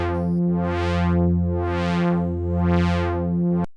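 A steady two-oscillator synth drone with a filter at 70% resonance sweeping slowly up and down, a subtle resonant emphasis giving each sweep a slightly whistling, phasing edge.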